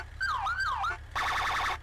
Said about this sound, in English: It does have sirens. I like those sirens.